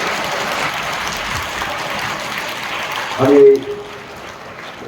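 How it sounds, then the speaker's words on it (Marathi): Schoolchildren applaud their teachers at the opening ceremony of an inter-school competition and annual sports festival, a broad wash of clapping that swells briefly near the end before fading, with a voice speaking over it. "त्या सगळ्या गोष्टीला मुलांना माझ्यातर्फे जोरदार टाळ्या द्या आपल्या"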